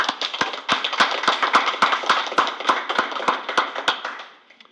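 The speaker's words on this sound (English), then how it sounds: "Can we have a little applause?" A small group at a school board of education meeting gives a short round of applause, with sharp individual claps standing out in a quick rhythm before it fades out.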